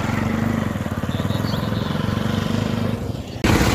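Motorcycles arriving as a biker group gathers, a loud steady engine drone with rapid rhythmic pulsing close by, cutting off abruptly near the end into wind noise.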